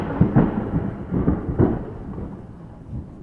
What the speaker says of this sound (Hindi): दूर कहीं बादल गरजते हैं।